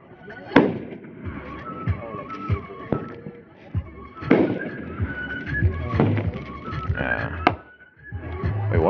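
A World Class Sorcerer fireworks cake, a 500 g, 9-shot item, fires a series of irregularly spaced booming shots with crackling tails, loud and close outdoors.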